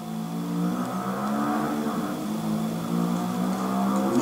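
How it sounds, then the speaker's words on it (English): A motorbike passes outside a flat in the background, a steady mid-pitched engine drone that holds at a moderate, fairly even level throughout without a clear peak. "Motorbike. I don't know if you can hear that in the background."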